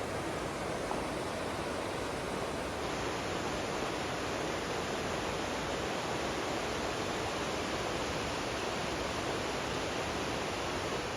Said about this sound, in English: You hear that water roaring all the way down through there